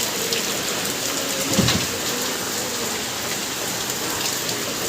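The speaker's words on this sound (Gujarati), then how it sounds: "બહુ જ વરસાદ આવે છે." Heavy afternoon rain pouring onto a house terrace and its surroundings: a dense, loud, unbroken hiss of falling water with one brief dull thump partway through, no talk.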